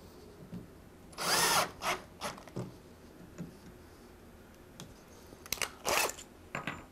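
A power drill with an Allen key bit drives retainer hardware into a hole while a PVC rail is installed, giving two or three short whirring bursts with quieter clicks and handling noises between them, close up.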